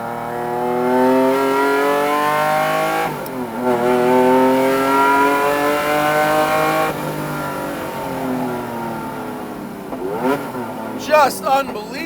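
A Lamborghini Diablo SVR, the company's first factory race car, roars loudly up through the revs as it drives, its engine note climbing and dropping with gear changes, the sound steady and close for most of the stretch before easing off.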